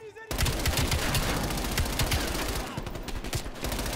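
Rapid automatic gunfire bursts in the video game Call of Duty: Black Ops Cold War, loud and dense with sharp repeated cracks, thinning briefly near the end.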